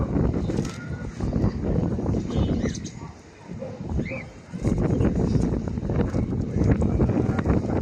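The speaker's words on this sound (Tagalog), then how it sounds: "Ang hangin mga idol." Strong outdoor wind buffets the microphone in loud, rough gusts that briefly ease midway before roaring back, while a kite with a tail is flown.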